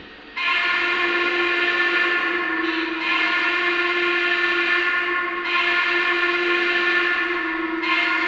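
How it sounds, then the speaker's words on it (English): A Lionel VisionLine model Norfolk and Western Class A steam locomotive's hooter whistle blows a steady, sustained, chime-like tone loudly in long blasts, briefly dipping and resuming, with no talking. "here is the standard whistle, which is the Norfolk and Western Hooter"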